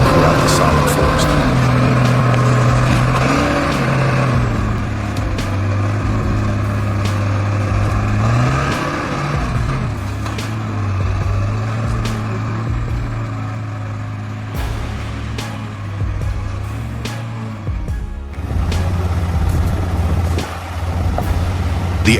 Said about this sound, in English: The truck, loaded with dark brown logs, lurched forward on the muddy dirt road.